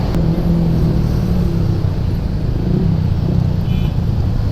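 Dense road traffic in a city jam gives a continuous, close, low engine rumble and car noise with no breaks, heard from inside or beside a vehicle.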